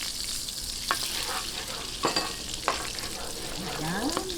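Two tablespoons of butter melting in a hot pan for sinarsahang pork ribs, a soft steady sizzle with a few clinks and stirring scrapes of a utensil against the pan, close and moderately quiet.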